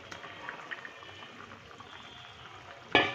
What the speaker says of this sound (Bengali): ঝোলটা ফুটে উঠেছে, আলুটাও সেদ্ধ হয়ে গেছে